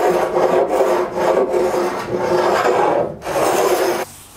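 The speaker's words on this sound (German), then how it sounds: "Deswegen hobel ich jetzt erst die Hirnholzseite." A hand plane shaves the end grain of a wooden board for a table in repeated rasping strokes, each a loud close scraping pass with short pauses between, the last stroke ending abruptly.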